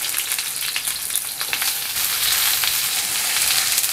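Garlic, ginger and onion sautéing in hot oil in a pan, a dense, bright crackling sizzle that grows slightly louder partway through, with a few light stirring taps, close and continuous.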